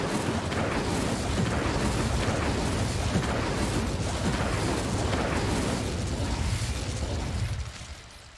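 Incendio fire spell cast in Hogwarts Legacy, a dense roaring blast of flame and crackling bursts sustained for several seconds at high loudness, then quickly dying away at the end, with no talk.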